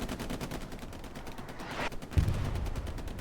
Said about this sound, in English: Artillery helping out.